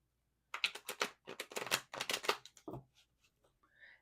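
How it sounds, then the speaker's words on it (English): Tarot cards being shuffled by hand, a series of crisp riffling bursts in quick rhythmic clusters, close and clear, then trailing off into a few softer taps. "as I'm shuffling"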